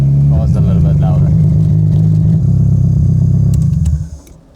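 A turbocharged VW Golf Mk1 revs while driving, a loud, close, steady engine drone with a rough pulsing texture that drops away sharply near the end, with voices faintly mixed under it.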